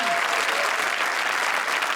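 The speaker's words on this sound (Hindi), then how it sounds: "तालियां" Steady applause from a group, dense clapping filling the whole moment without a break, fairly close and even in loudness.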